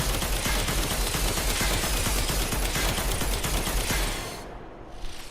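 The Panthera buzzsaw weapon in the Warframe video game fires continuously, a dense, loud grinding whir sustained for about four seconds before it cuts off, leaving a faint tail.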